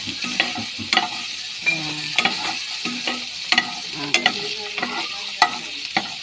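Pork fries in oil with bagoong shrimp paste, giving a steady close sizzle punctuated by clinks and scrapes of a utensil stirring the pan, with no talk.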